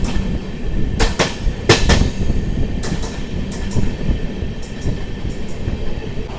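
Machilipatnam to Bidar superfast express train running with new coaches, a steady loud rumble of wheels on rails broken by sharp rhythmic clacks over track joints, heard from on board with no talk.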